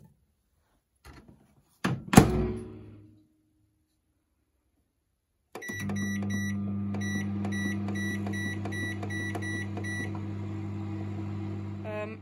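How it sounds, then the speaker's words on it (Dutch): A microwave oven used to melt glass runs with a steady low hum and mechanical drone, after a few thunks and a door clunk, with repeating high beeps sounding through the running noise, close and moderately loud. "Ik heb hem net uit de magnetron gehaald."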